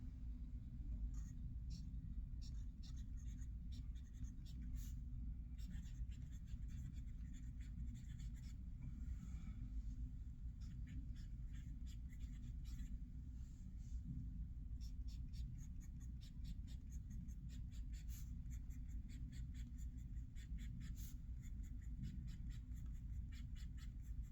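A TWSBI Precision fountain pen with a wet stub nib scratches steadily across paper, a soft continuous scrawl dotted with small ticks of strokes and lifts, close and quiet over a low background rumble.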